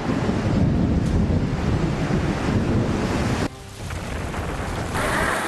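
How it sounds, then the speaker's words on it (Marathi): High sea waves surge at the Gateway of India in Mumbai during heavy rain, a dense roaring wash of surf with gusting wind buffeting the microphone, loud and continuous with a brief dip before swelling again. "गेटवे ऑफ इंडिया परिसरात उंचच उंच लाटा"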